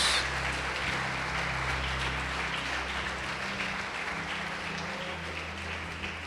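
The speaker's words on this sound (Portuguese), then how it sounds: "Pode aplaudir e glorificar o Senhor Jesus" Steady applause from a church congregation during a sermon fills the whole stretch at an even level, with a low sustained hum underneath.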